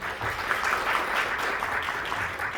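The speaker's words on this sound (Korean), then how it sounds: "다시 한번 큰 박수 부탁드리도록 하겠습니다" Steady applause from a conference audience after a talk fills the whole stretch, dense and even without pause.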